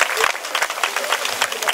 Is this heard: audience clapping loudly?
yes